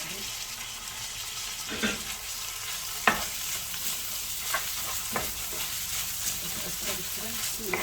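Washed rice tipped into a pot of hot melted fat for chicken and chickpea pilaf, bursting into a steady close sizzle with stirring scrapes and a few sharper clinks over the frying hiss.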